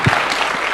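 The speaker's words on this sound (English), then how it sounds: "A round of applause for His Excellency one more time." Audience applause for the President of Kenya at a State House breakfast honoring the FKF Premier League champions, a steady, dense clapping wash filling the room for under a second.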